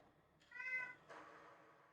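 A cat lets out two close, clear meows in quick succession, the first tonal and rising, the second breathier and drawn out, in an otherwise quiet room.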